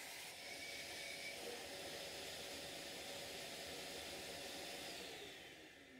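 A dust extractor runs beneath a Bosch router table, a faint, steady broadband whoosh that holds evenly with no talking and fades slightly at the end.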